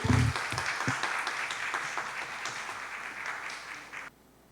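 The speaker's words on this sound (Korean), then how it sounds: "여러분 박수로 환영해 주세요" Audience at a school information session clapping to welcome a graduate to the stage: dense applause from a crowd that starts strong with some low thumps, gradually tapers, then cuts off abruptly near the end.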